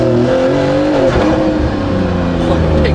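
A W Motors Fenyr SuperSport with an 800-horsepower engine and a Kline-Innovation valved exhaust accelerates hard on a race track. Its loud, continuous engine note climbs steadily in pitch, with voices talking over it.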